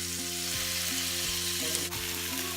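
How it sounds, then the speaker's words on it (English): Beef roll-ups fry in hot vegetable oil in a pan over medium heat, giving a steady, close hiss and crackle that runs without a break, with low musical tones layered underneath. "Once the oil is hot, add your beef roll-ups to the pan"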